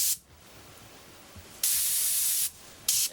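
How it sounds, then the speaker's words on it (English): An airbrush sprays gray paint in loud, steady hissing bursts, one long and one short after a brief opening puff, with quiet air between them and no talking. "Okay, now we'll take our gray and we'll spray that in"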